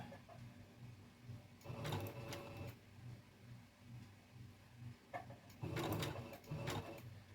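A sewing machine runs a buttonhole-style stitch on a dog coat, its rhythmic mechanical whir rising in short bursts with brief pauses between runs, close and fairly quiet.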